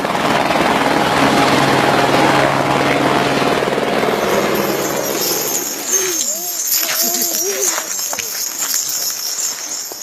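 Helicopter with a loud, close, pulsing rotor chop and engine whine for the first several seconds, then fading away as wind, scattered voices and a high insect-like hiss take over.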